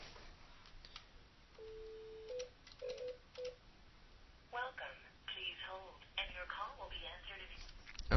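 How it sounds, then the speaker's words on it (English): A handful of short dialing tones beep in quick succession, followed by a voice speaking, all faint over a hissy line. "And we'll make a phone call."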